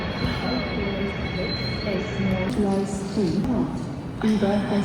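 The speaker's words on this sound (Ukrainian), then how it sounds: "На тепличці показали, що скоро буде наш цей трамвайчик чи поїзд." Tram or train arriving at a Berlin stop in winter: squealing wheels and rising, falling metallic tones over a rumbling rail drone, moderately close, with people talking nearby.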